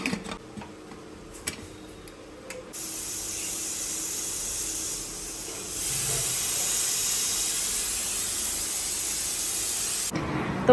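A pressure cooker with marinated mutton inside hisses steam in a steady spray that grows louder partway through, then cuts off abruptly near the end.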